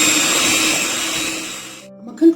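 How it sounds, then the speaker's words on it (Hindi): An electric hand beater whirs steadily through 150 g of butter for an orange cake, a loud close motor drone that cuts off near the end followed by a brief clunk. "इस तरफ 150 ग्राम मक्खन है जिसे मैं बीट करना शुरू करूंगी"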